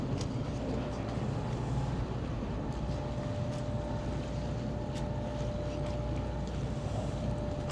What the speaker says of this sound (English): I can hear the exhaust kicking up.